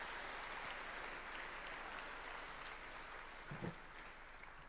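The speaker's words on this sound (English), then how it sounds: "which I think deserves a round of applause" A round of applause at a tribute event honoring Brett Cottle, a steady, fairly faint wash of many hands clapping from a distant crowd, continuing evenly throughout.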